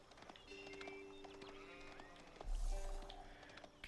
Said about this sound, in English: a couple of sheep out here